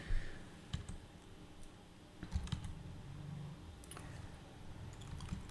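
Soft keystrokes on a computer keyboard as a Wi-Fi password is entered, a few scattered clicks and short bursts spread across the stretch, quiet and close over a faint room hum.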